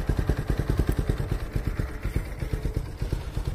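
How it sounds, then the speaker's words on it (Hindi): A Bajaj motorcycle engine idling after a cold start following ten days unused, with a steady, rapid single-cylinder thump and mechanical clatter, loud and close, running continuously without speech. "बोलते हैं बजाज की बाइक बहुत दिनों में स्टार्ट करोगी,"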